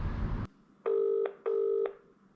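Two long, identical ringing tones of a telephone line on a recorded call, each about half a second, following a burst of noise, clear and close.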